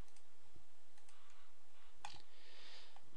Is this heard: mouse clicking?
yes